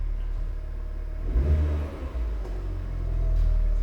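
A 2021 Honda Civic Type R engine starts and rumbles, swelling in a short rev around the middle before settling into a steady low idle, close and alone without talk.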